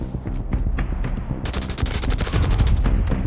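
Rapid automatic gunfire in the mobile shooter Division Resurgence, a dense loud barrage of overlapping shots that intensifies midway and keeps going without pause.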